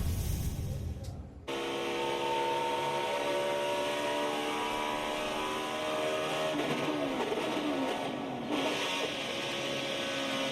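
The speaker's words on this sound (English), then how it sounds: "That was the sound of an engine self-destructing as it went to second gear" A race car engine screams at very high revs, cuts out briefly during a gearshift, then roars back loud and harsh with a rough, strained edge as it blows up.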